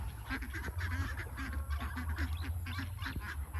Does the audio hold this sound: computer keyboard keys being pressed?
no